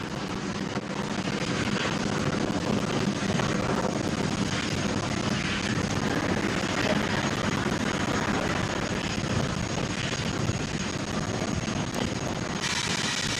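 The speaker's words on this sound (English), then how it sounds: "And we have liftoff." A SpaceX rocket lifts off on NASA's 31st commercial resupply mission to the International Space Station, a broad, loud roar holding steady and unbroken throughout.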